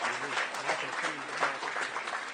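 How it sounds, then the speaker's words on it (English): Audience applause for an eminent professor at an outreach event on India's Aditya L1 solar mission, a dense, steady wash of clapping that stays fairly loud for the whole short stretch. "So we would like you to clap for the eminent professors amongst us"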